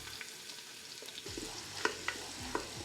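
Onions sizzle in melted Wagyu tallow in a pot, with a steady, fairly quiet frying hiss broken by a few sharp clicks and scrapes of stirring.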